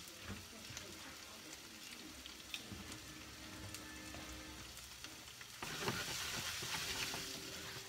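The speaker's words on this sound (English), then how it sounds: "I just stir" A cheesesteak filling is stirred in a frying pan, with a steady sizzle underneath and scraping stir strokes throughout. The sizzle grows louder and brighter for the last couple of seconds.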